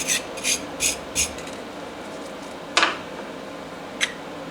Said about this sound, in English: This stainless brush.